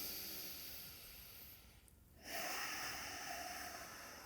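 During a yoga stretch, a person breathes steadily through the nose, close and soft: a long airy breath, a brief pause, then another drawn breath.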